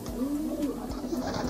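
Homing pigeons coo steadily in a loft, a continuous low warbling close by with no talk over it.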